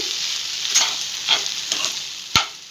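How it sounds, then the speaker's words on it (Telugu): Crispy okra fry being stirred in a pan with the stove just switched off, a bright dry frying hiss under three or four clear scrapes and taps of a spatula, the last one loudest. "ఇప్పుడు స్టవ్ ఆఫ్ చేసి ఇది మొత్తం కలిపేసుకుందాం"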